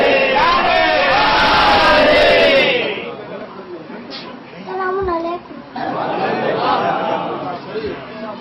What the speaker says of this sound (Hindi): उनके इस एहसास से तबलीग के लिए एक बावाज़ बुलंद सलवात देना